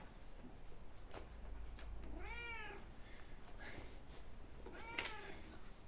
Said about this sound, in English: I'm sorry about all the meowing